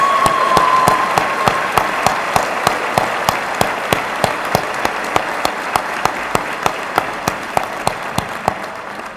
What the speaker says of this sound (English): Please join me in a round of applause for our 2015 MHRM program graduates.